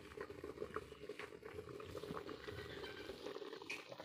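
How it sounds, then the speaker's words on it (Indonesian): A fish stew of snakehead with yellow spices bubbles in a covered pot, a soft, continuous burble with small pops and patter, heard close but faint. "Biar mendidih, kita tutup."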